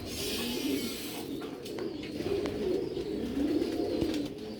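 A pigeon coos repeatedly up close, its throaty, rolling calls running almost continuously over a soft hiss, with no talking.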